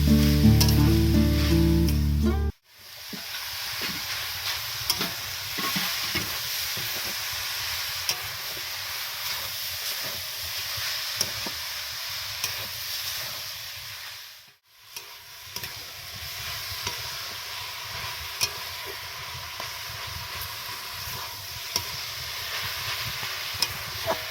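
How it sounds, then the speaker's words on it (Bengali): Grated coconut fries with date palm jaggery in a steady, close hissing sizzle as it is stirred, with light scrapes and ticks and two brief dropouts in the sound. "সুন্দর করে এখানে নারকেল কোড়াগুলো ভেজে নেওয়া হবে গুড় দিয়ে।"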